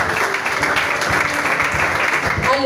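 A church congregation applauds to acclaim Jesus, a steady wash of clapping from many hands that continues throughout, fairly close and even in loudness.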